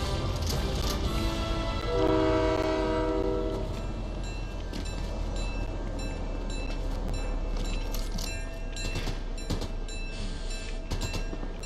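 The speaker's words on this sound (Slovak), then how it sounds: "Bože, jak pomalý ten vlak." A slow-moving train in Fortnite rumbles steadily, and a sustained horn blast sounds about two seconds in. The rolling noise carries on loud and continuous afterward with scattered game effects.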